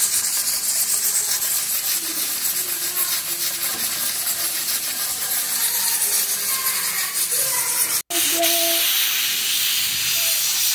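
A pressure cooker hisses loudly and continuously while cooking Marrakech-style tanjia with beef, a harsh steady jet of steam with faint rattling, briefly cut off near the end before resuming.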